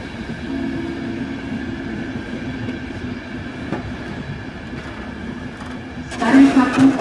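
A train at Púchov railway station in Slovakia rumbles with steady wagon noise and a low tonal hum, growing louder and brighter near the end as it draws closer, with faint station sounds throughout.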